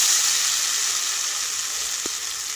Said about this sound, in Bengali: এবার আমি মটরশুঁটির বাটাটা দিয়ে দিলাম।